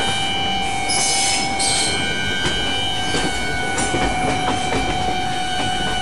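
Indian Railways electric locomotives, including a WAP-4, run in the Open Rails train simulator, with a steady rolling rumble, rhythmic wheel clatter and brief horn blasts sounding over the continuous train noise.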